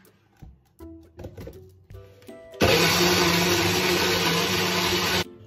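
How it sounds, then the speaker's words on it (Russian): Tomatoes being ground in a blender: a few knocks and clatters, then the motor kicks in with a loud, steady, high-pitched whir that runs for a couple of seconds and cuts off. "И перемалываю помидоры."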